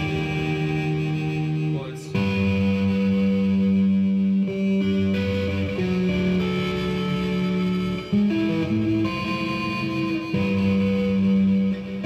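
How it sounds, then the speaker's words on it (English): An electric guitar signal runs through an Amma pedal's built-in bit crusher, sustained distorted, gritty tones with chord changes every couple of seconds, loud and upfront without talk. "What I can do is I can switch this, and it bit crushes the signal."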